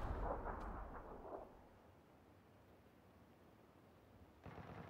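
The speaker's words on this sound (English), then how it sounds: "I threw a grenade." A grenade blast in PUBG: a heavy booming burst at the start that rumbles and fades over about a second into quiet background, followed later by a faint rise of noise.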